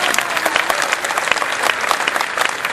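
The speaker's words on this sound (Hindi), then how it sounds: "और आप सबको बधाई, क्योंकि आपने माँ के नाम पर ताली बजाई।" An audience at a Hindi poetry recitation bursts into loud, dense applause, many hands clapping continuously and close throughout.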